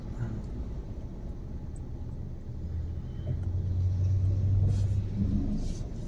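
A car's engine rumbles steadily as it slowly creeps forward while a learner driver gently releases the clutch during a first-day driving lesson, the low drone swelling a little louder midway with no talk heard.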